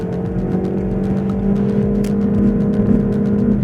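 Renault Megane RS 280 Cup engine in sport mode, a steady throaty idle-to-rev drone with a light crackle, close and loud, no voices.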